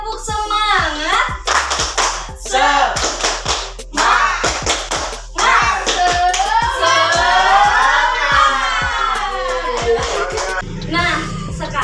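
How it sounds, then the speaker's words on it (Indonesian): Children in a classroom do the rhythmic Indonesian clapping chant 'tepuk semangat', sharp patterned handclaps alternating with sung and spoken children's voices throughout, loud and close. "kita tepuk semangat dulu ya"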